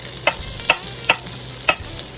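Garlic and onions sizzle in a pan with butter while meatballs are cooked, a steady crackle broken by four sharp stirring clatters spaced across the moment, with no voices.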